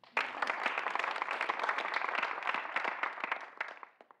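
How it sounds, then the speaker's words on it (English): Audience applause: a dense, steady wash of many hands clapping at moderate distance, fading out near the end. "So let's pause for an applause there."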